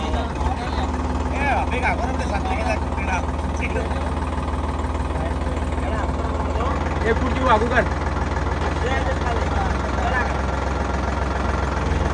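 A tractor engine idles with a steady low rumble throughout, while people talk nearby over the engine noise.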